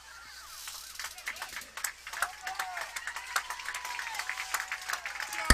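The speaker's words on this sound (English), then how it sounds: "And Greenway, nice applaud for her as she leaves the field after an outstanding game." Crowd at a state high school soccer quarterfinal applauding a player leaving the field, scattered, moderately distant clapping that builds steadily while a commentator talks over it.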